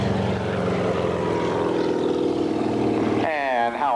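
A Mil Mi-34 training helicopter flies a demonstration, its rotor and engine producing a loud, steady drone that shifts pitch near the end, with a commentator's voice heard faintly over it.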